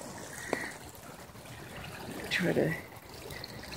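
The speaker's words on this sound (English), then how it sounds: "So this water is coming from the neighbor's yard." Floodwater from a July 2017 flood runs in from a neighbor's yard, a soft trickling flow heard beneath someone talking, with occasional splashes and brief louder gurgles.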